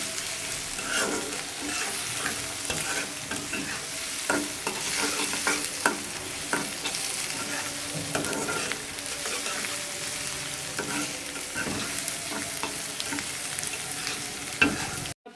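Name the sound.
onions frying and being stirred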